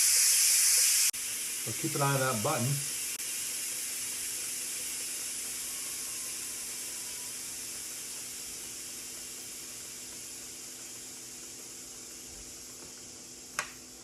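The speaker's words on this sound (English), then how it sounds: "So she's starting to release the steam pressure." Steam vents steadily from a pressure cooker's release valve, a loud, bright continuous hiss that tapers slowly over many seconds, while someone talks briefly near the start and a small click sounds near the end.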